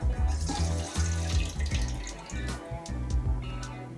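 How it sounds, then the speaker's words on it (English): Warm milk and warm water poured into a mixing bowl for hot cross bun dough, a steady running liquid sound close by with a few splashy bursts, no talking. "Okay, so there is our warm milk and warm water."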